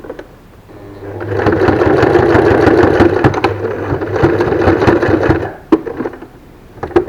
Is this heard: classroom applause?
no